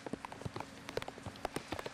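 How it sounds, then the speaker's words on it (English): Torrential rain falls at a drift event track under dark clouds, with scattered sharp drops and patters striking a nearby surface at an irregular rhythm, fairly faint and with no voices. "it is very dark clouds, huge torrential rain"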